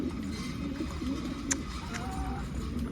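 Pet pigeons in a coop coo softly and repeatedly in low, rolling calls over a steady background hum, with a faint chirp and no talking.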